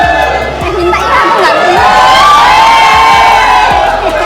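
A dense crowd of supporters cheers, whoops and shouts outside a court hearing, a loud continuous roar of many voices with higher excited yells rising throughout.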